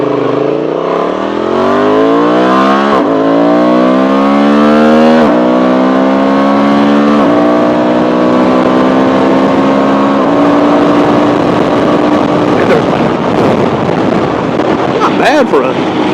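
A 2024 Honda Transalp 750 adventure motorcycle accelerating hard up an on-ramp with a stock windscreen, engine pitch climbing through several gear shifts under heavy wind rush, loud and close.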